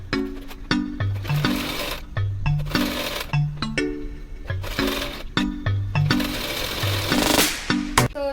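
A sewing machine stitches elastic onto a hair accessory, running in short repeated bursts of rapid mechanical chatter with brief pauses between runs, loud and close with no talking.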